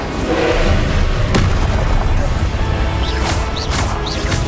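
Repeated Confringo spell explosions in Hogwarts Legacy burst out in loud booming crashes, one sharp blast followed by more bangs and whooshing fire sounds over a continuous rumbling battle din.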